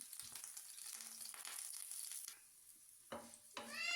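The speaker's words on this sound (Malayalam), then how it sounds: "വെളുത്തുള്ളി ഇട്ട് അത് ഇഞ്ചിൻ്റെ വെളുത്തുള്ളിൻ്റെ പച്ചമണം പോകുന്നവരെ നല്ല പോലെ ഒന്ന് വഴറ്റി കൊടുക്കണം" Ginger and garlic sauté in a pan for a Kerala-style anchovy fish curry, giving a soft, steady sizzle with a few faint scrapes and taps, quiet and close.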